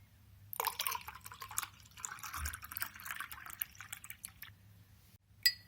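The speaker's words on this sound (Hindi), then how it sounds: "थोड़ा सा ठंडा पानी डाल लेंगे।" Cold water trickles and drips into a glass of freshly made black currant juice, a soft close splashing pour lasting several seconds before ending with a brief clink.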